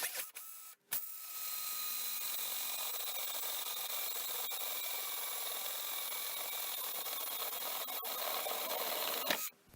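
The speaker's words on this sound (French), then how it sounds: "on va mettre suffisamment de puissance pour percer et c'est parti" A power drill bores a hole in wood for a homemade cane display stand, a steady high whirring grind running for several seconds after a short start, close and fairly loud with no talk.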